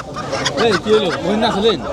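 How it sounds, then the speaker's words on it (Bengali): Free-range chickens on a Padma river char cluck in short, rising and falling calls, several close together and fairly loud, with a faint background hum. "চরের এই দেশি মোরগ মুরগি"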